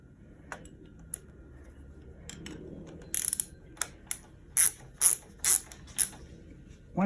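A ratchet tightens a plug with a crush washer on a John Deere L120 lawn mower, giving a series of crisp, close clicking bursts in an uneven rhythm that build louder, with no voices.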